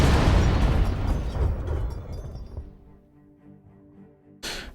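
Airstrike explosions in the naval game Battle Fleet 2 open with a heavy, booming blast that rumbles and crackles for a couple of seconds and fades into quieter ringing, followed by another sharp burst at the very end.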